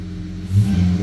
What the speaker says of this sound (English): You can hear my intake up there.